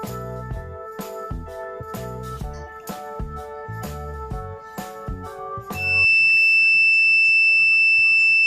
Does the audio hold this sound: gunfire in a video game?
no